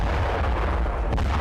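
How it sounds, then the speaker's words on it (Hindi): A Ratel ground drone blows up a bridge in Donetsk, a dense, continuous low rumble of blast and debris with no voices. "डोनेट्स्क में यूक्रेन ने रातेल ड्रोन से इस तरह से धमाका किया"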